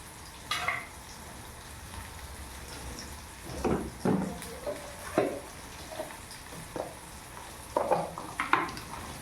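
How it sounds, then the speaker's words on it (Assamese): Garlic and ginger paste frying in a pan, a soft close sizzle broken by scattered stirring scrapes and clinks of a utensil against the pan, no talking. "নহৰু আদা পেষ্ট অকণমান দিম এতিয়া"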